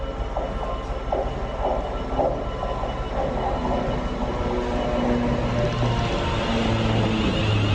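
A Class 360 electric multiple unit, once on Anglia Railway duties, rolls into a station platform with rhythmic clickety-clack from the wheels over rail joints, a rumbling drone and rising electric whine, close and loud.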